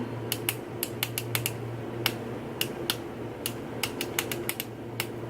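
Repeated sharp clicks from an NYX Super Cliquey click-up makeup pen, about twenty quick close ticks in irregular bursts over a faint steady hum.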